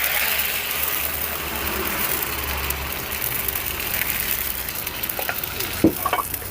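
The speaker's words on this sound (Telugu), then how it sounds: "ఇప్పుడు మనం తీసుకున్న ఈ పానికి సగం వరకు పిండి పోసుకుందాం" Bun dosa batter spreads in an oiled pan with a steady, moderate sizzle and a low hum underneath, followed near the end by a few light clicks and a knock.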